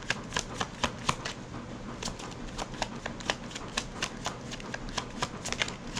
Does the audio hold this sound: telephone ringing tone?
no